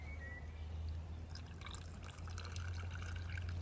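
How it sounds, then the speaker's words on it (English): A Negroni cocktail is poured into a glass, giving a steady liquid trickle and splash under a low constant background hum, with no talking. "And then we just pour it out."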